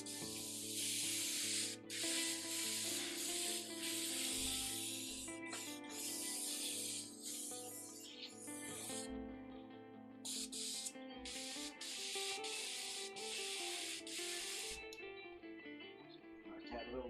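Airbrush spraying pink paint through a stencil, a soft continuous hiss in bursts with brief gaps where the trigger releases, fairly quiet, with faint music and occasional voices in the background.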